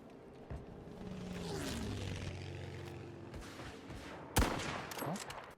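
Battlefield 5 gunfire crackles over a droning aircraft engine, with one sharp, loud shot standing out near the end.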